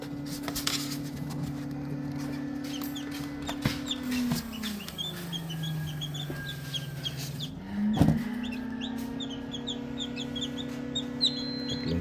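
Roundhead gamefowl chicks and chickens, with steady close cheeping and clucking from the flock and a rooster-like call over a continuous low farmyard hum.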